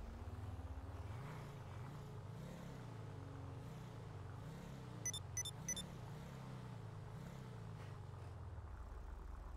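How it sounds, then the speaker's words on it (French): Car engines in a police role-play video game as vehicles drive away, a low revving hum that rises and falls in waves, with a brief electronic chirp midway and the engine settling near the end. "Ils repartent en voiture."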